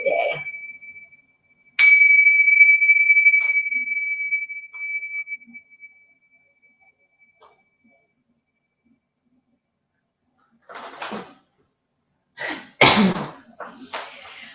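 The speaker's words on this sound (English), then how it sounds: "I'm just gonna ring this bell and bring us into presence" A meditation bell is struck once to begin a session, a clear ringing tone that sustains and slowly fades into silence, followed later by a person sneezing or coughing close by.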